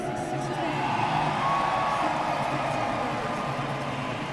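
Arena crowd at a college wrestling dual meet, UNI Panthers against South Dakota State, roars in a sustained, dense wash of cheering and shouting, steady and loud throughout.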